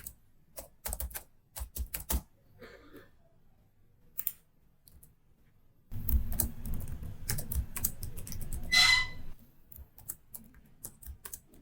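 Details being typed on a computer keyboard, bursts of quick clicking keystrokes with pauses between, then a denser, louder run of typing near the end, close and alone without talk.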